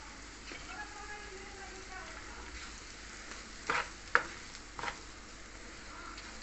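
Ground chana dal and chopped onion fry in a pan with a faint, steady sizzle, broken by a few sharp clinks and scrapes of stirring near the end.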